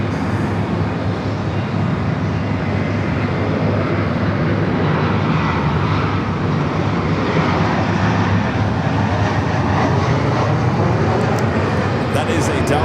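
A Delta Boeing 767-400ER airliner on pushback at LAX, bound for Atlanta, its engines giving a steady, loud broadband roar that fills the whole span with little change in level.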